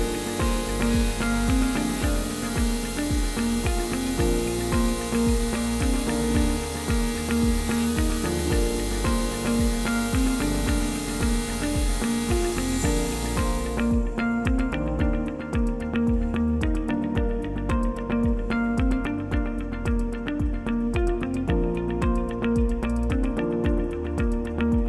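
A Hammer HNC 47.82 CNC gantry router mills brass with a 60-degree V-cutter while making a branding iron, giving a steady, dense machining drone with bright hiss that drops away partway through, continuous and close.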